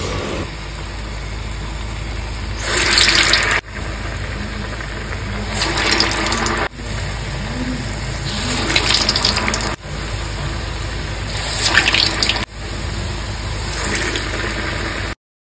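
Batter for medu vada, the crispy South Indian lentil fritters, sizzles steadily in very hot oil, with bursts of loud crackling bubbling as each piece drops in, repeating several times over a continuous frying hiss.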